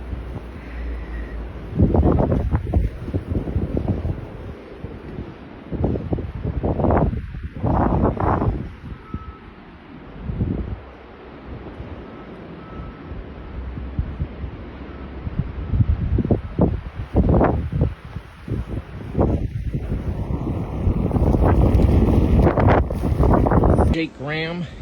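Blizzard wind at night in Iowa, rough buffeting gusts that swell and fade against the microphone, with a truck's reversing beeps and brief talk mixed in.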